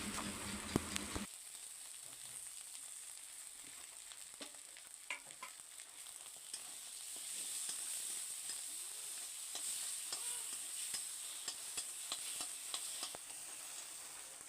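Teasel gourd (kakrol) stuffing with its seeds being fried and stirred in a pan, giving a steady close sizzle broken by frequent scraping and stirring clicks throughout, with no talk.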